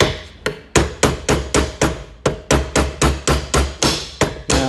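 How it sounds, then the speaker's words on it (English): Hammer blows driving a rail off an M1A rifle through a wood block, about a dozen sharp, loud, evenly paced strikes close by with no talk. "We got some wood, we got a hammer."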